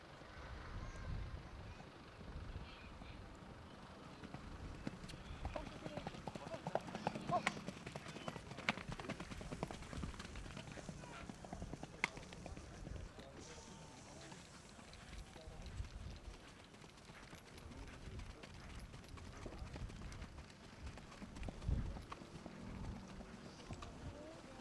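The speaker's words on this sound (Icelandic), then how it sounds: "grár hestur kemur hér strax." A grey horse's hooves clip-clop steadily at a distance over a noisy outdoor background, with people talking throughout.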